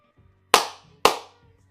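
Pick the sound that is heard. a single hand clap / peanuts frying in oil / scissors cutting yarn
a single hand clap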